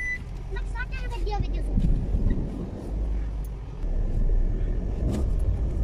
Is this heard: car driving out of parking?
yes